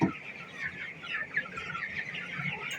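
A chicken being weighed on a scale gives soft, continuous clucking and chirping at close range for a few seconds, with faint handling noise underneath and no talking.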